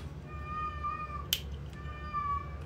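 Two drawn-out cat meows, clear and close, separated by a brief sharp click, over a low steady background hum.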